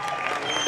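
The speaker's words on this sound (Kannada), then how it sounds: "ಜೋರಾದ ಚಪ್ಪಾಳೆ ಬರಲಿ" Short burst of live audience applause and crowd noise at a stand-up comedy show in Jamkhandi, steady and dense clapping throughout without a clear start or end.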